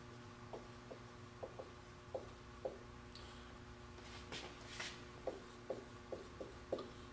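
Pen or marker writing a logic statement by hand on a surface, a series of soft short scratching strokes in a steady rhythm, close and quiet, with no talking.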